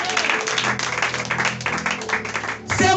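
A church congregation applauds the Lord during a Sunday worship service, sustained loud clapping from a crowd over a steady background, briefly thinning before a final swell.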